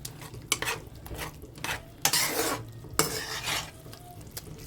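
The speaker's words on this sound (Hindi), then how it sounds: "मसाले को हम तेज़ आंच करके भून लेंगे बहुत अच्छे से" Masala for rajma being stirred and roasted in a pan over high heat: a spoon scrapes against the metal in repeated strokes, with several louder scrapes and a light sizzle beneath, close by and without talk.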